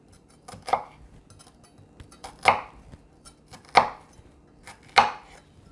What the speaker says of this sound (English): So your onion, you'll want it to cut it into little squares.